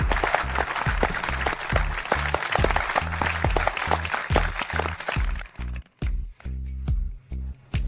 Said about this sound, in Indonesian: Mari kita beri tepuk tangan meriah untuk pemenang medali emas tahun ini, Liam Smith.